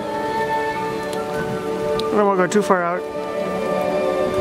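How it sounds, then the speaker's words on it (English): Gentle rain patters steadily outside the open front door of a lounge, a soft continuous hiss with classical music playing nearby and someone speaking briefly over it midway. "It's a nice gentle rain and we got some classical music."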